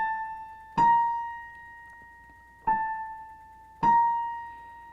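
Three separate tones, each sounded alone with a sharp attack and a slow fade, a half step apart, close and clean in quiet surroundings with no talking.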